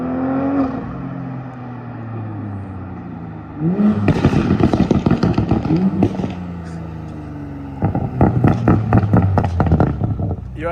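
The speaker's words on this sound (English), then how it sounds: "heard that turbo flutter?" A Toyota MK5 Supra with a burble tune revs and lets off, giving loud, close bursts of rapid fluttering chatter from the turbo over the engine note, in two clear spells within steady drone.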